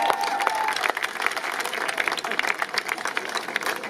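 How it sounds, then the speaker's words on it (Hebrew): An audience claps in sustained, dense applause, a steady wash of many hands at moderate loudness throughout, with faint voices mixed in. "מחיאות כפיים"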